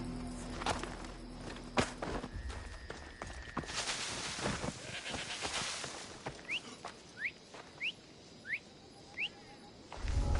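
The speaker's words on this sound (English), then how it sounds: "That was definitely a whistle." A short rising whistle repeats five times in an even rhythm in a video game with Kassandra, seemingly calling a horse, set over footsteps and quiet ambient game noise.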